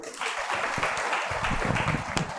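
An audience at a religious discourse bursts into applause: a dense patter of many hands clapping together, steady and moderately loud for a couple of seconds, with faint voices mixed in.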